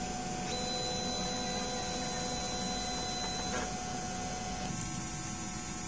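A DTF printer runs a nozzle check, giving a steady mechanical whir with a thin high whine for about three seconds, then a faint shift in the motor hum, all at moderate level with no talking.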